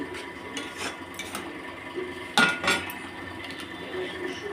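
A vegetable mixture with dissolved cornflour stirred in a pan, a metal spoon scraping and clinking against the pot in uneven strokes, with one sharper knock partway through, fairly close and without talk.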